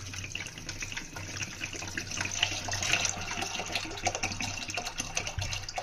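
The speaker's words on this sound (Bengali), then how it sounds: "750 ml জল দিলাম।" Water pours steadily into lentils being cooked, 750 ml in all, making a continuous splashing stream with no talk over it.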